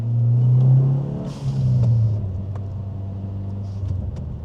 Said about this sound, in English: I love the burbles out the back